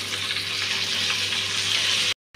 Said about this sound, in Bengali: এরকম করে সবগুলা চিকেন আমি ভেজে নেব